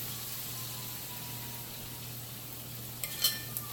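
Soft, steady sizzling of Jamaican fritters frying in hot oil, with a low hum beneath and a few faint clinks near the end.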